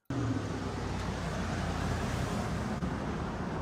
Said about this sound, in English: Hear the car?